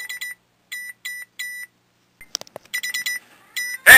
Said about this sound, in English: it's the cell phone detection system.